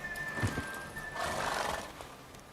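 A horse whinnies loudly in The Witcher 3, followed by snorting and a breathy neigh, over a faint steady background tone.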